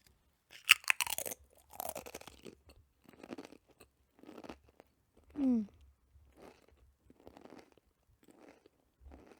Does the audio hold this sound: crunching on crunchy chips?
yes